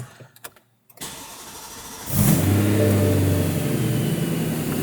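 A few clicks, a brief hush, then a BMW E90 M3 engine cranks and catches, settling into a loud, steady idle close by.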